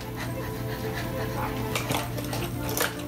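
A young child pants rhythmically like a dog, imitating the sound with quick breathy huffs close to the microphone, with faint household clatter behind.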